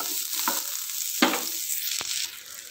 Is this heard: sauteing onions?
yes